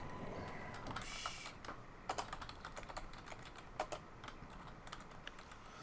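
Rapid, irregular keystrokes on a computer keyboard, close and fairly steady, with a few louder key presses standing out and no talking.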